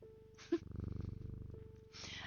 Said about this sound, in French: il y a le mien de chat qui vient me faire chier.